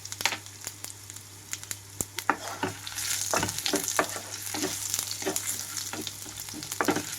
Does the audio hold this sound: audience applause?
no